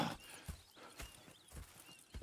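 Horse hooves clip-clop in a slow, steady rhythm in the video game Red Dead Redemption 2, with a faint whinny mixed in over quiet ambient background, no talking.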